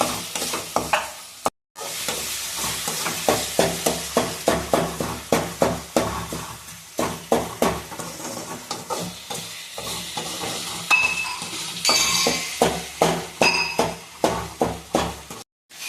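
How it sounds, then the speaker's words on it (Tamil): Spoon scraping and stirring dry fish kozhambu in a pan, with steady rhythmic strokes clinking against the metal over a faint sizzle, close and fairly loud. "நல்லா மிக்ஸ் பண்ணி கிளறி விட்டுக்கலாம்."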